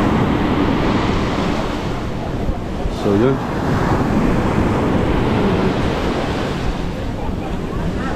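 Steady roar of ocean surf at Es Canar beach, Spain, with wind buffeting the microphone, and someone speaking briefly partway through.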